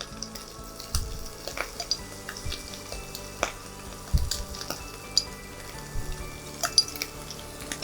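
Shrimp seasoned with salt and black pepper fry in butter in a pan, giving a steady close sizzle with scattered soft pops and light clatters throughout.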